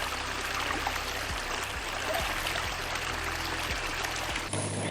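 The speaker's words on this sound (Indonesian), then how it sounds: "Kebetulan ada air mengalir untuk." Water flows steadily in a small channel beside a rice field, a continuous close trickling rush with faint low knocks, no talking.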